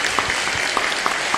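Congregation applause in a church setting, a steady wash of clapping from many hands with a few sharper claps standing out, moderately loud and continuous with no talk.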